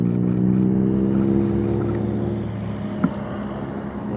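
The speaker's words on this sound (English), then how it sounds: "Hopp, egy Ferrari." A Ferrari sports car passes on the Stelvio Pass, its engine note rising and sustained for a few seconds, with faint beeping tones early on and no talk.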